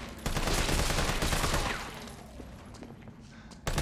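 Rapid gunfire in the video game Resident Evil 3, a loud dense burst of shots that tapers to scattered lighter shots and echo, with a final sharp shot, no talking.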